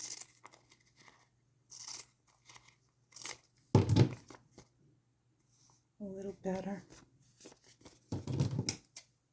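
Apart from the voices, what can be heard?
old scissors cutting fabric and book pages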